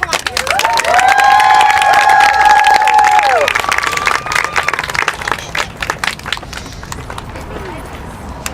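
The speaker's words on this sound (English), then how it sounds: "Let's give them a round of applause as they come on." At an outdoor medical freedom rally at the Oregon State Capitol, a crowd cheers and whistles, then claps in a loud, sustained burst that thins into scattered applause, with voices calling out over it.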